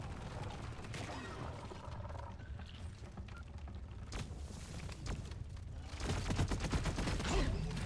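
Sentry guns in Deep Rock Galactic firing rapidly, a dense crackling fusillade that runs throughout and grows louder and busier near the end, with no talk.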